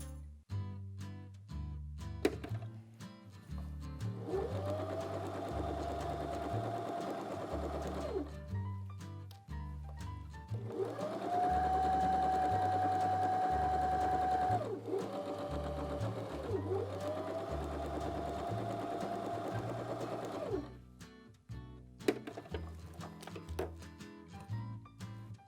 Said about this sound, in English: Now I'm going to take this to the sewing machine.